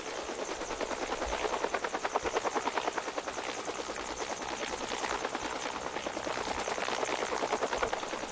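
A video game helicopter flying erratically, its rotor chopping as a steady loud pulsing thrum that stays close and continuous throughout, with no voices over it.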